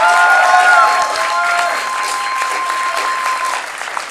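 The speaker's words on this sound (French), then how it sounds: "par vos applaudissements!" Steady applause from an audience at an improv festival in Paris fills the space, dense and sustained, with a few high whistles or cheers rising early before it gently thins.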